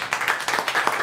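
Brief applause from an audience at a public celebration against homophobia, a short burst of scattered hand claps.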